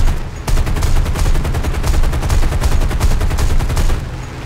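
P-63A aircraft machine guns firing in War Thunder, a loud, sustained rapid stream of shots over a roaring engine, continuous for about four seconds before easing off.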